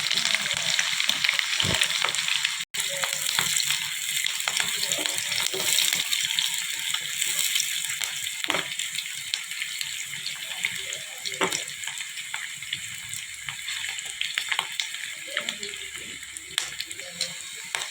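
Sliced onions, green chilies and curry leaves frying in hot oil for a mutton fry, a steady loud sizzle with crackling pops and occasional stirring scrapes throughout, with no talking.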